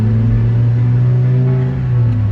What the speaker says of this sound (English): I can hear the blow-off valve now, like all the time.